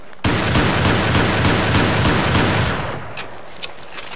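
The Hydra triple-barrel shotgun in Resident Evil: Revelations fires a sustained, dense burst of loud blasts that fades out, followed by a few faint clicks and taps.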